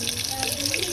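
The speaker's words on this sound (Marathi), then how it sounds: "नंतर त्याच्यामध्ये पाणी टाकायचं।" Water pours into a pan of fried green chillies for a fasting-day amti, a brief, steady close gush and splash with no voices.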